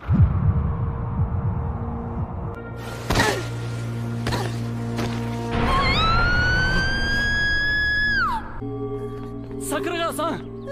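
A wailing ambulance siren in an anime rises and holds for a few seconds before cutting off, surrounded by engine hum and scattered clatter.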